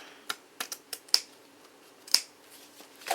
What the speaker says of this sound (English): I'm just going to grab my ribbon scissors